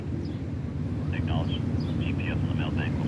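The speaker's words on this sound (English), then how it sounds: "The wind's kind of like moving it a little bit." Wind gusting around a large construction crane on a Fenway building site, a steady low rumble buffeting the microphone, with a person talking over it.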